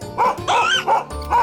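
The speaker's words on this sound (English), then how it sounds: "That's a dog barking." A dog barks in a few sharp, close, loud bow-wow barks with short pauses between them, heard clearly with no talk.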